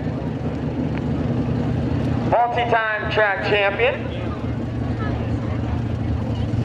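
A pulling tractor roars at a truck and tractor pull in Millers Tavern, Virginia, its engine rising into a loud, rising whine mid-run while an announcer talks over the steady crowd and motor din.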